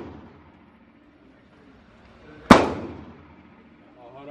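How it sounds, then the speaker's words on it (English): A single sharp gunshot at a shooting range, loud and close, cracking once and then ringing out over a quiet background, with a voice beginning at the very end. "I was kind of shooting to the left."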